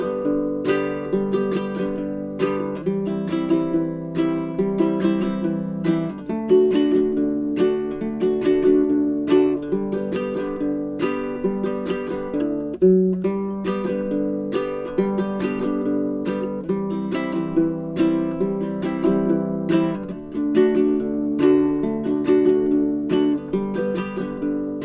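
Baritone ukulele playing a country strumming pattern that mixes single picked notes with strums and rests, a steady bouncing rhythm repeating for about twenty-five seconds, played close and alone with no talking.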